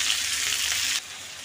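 Onions fry in a pan with a close, steady hiss that cuts back abruptly partway through and continues more quietly.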